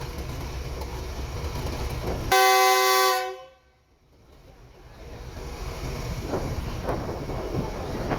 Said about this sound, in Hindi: पावरफुल विसल GU40 9036 का।